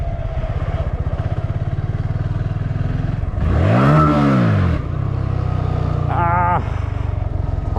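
Motorcycle engine sputtering and revving as a stalled bike in a parking lot is bump-started, the clutch dragging; a steady low idle swells into a loud surging rev near the middle, then a brief higher whine, with talk mixed in.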